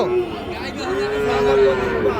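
A young Sahiwal bull calf at a livestock market moos once in a long, drawn-out, fairly loud call, with crowd chatter and voices murmuring behind it.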